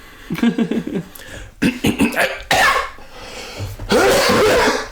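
A person coughs several times in harsh bursts, with short pauses and some throaty, laugh-like sounds between them, close and fairly loud.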